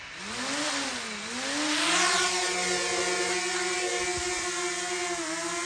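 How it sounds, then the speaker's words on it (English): A repaired DJI Mavic Mini 2 drone, rear arm and middle body fixed, spins up its motors and lifts off: a close, steady high-pitched whine that rises and wavers in pitch as it climbs and holds a hover. "Go ahead and fire the motors up. Take off."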